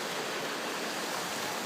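Rainwater runs down a driveway from an overflowing ditch on a mountain property, a steady close rushing wash of water with no break and no voices.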